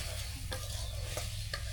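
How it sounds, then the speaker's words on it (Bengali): Potatoes hit a frying pan where a fish head is being cooked down, giving a steady loud sizzle with a few stirring scrapes and no voices. "এখন আলু দিয়ে দাও"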